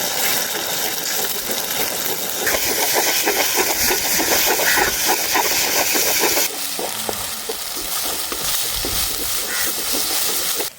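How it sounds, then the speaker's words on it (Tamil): Beaten eggs sizzle and fry loudly in hot oil while being stirred and broken up, a steady broadband hiss with scraping stir strokes, dropping slightly in level partway through as cooking continues. "எண்ணெய் சூடாயிட்டு இதுக்குள்ளே நாங்கள் முட்டை எல்லாத்தையும் சேர்த்துக்கொள்ளுவோம்"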